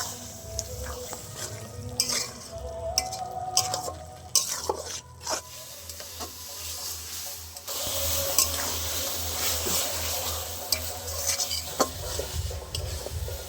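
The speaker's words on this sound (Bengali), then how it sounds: "আমি সব মশলাগুলো ভালো করে কষিয়ে নিয়েছি" Spices stir-fried in a pan for a mutton curry, kept moving with a spatula that scrapes and clinks against the metal. A steady low sizzle runs beneath, close and moderately loud, with no talking.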